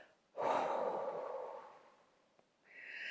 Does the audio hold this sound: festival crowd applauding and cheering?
no